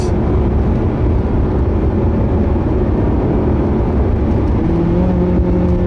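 A Ferrari 360 or Porsche 911 sports car engine drones loud and constant from inside the cabin while driving, a steady low rumble with a faint whine and no talk over it.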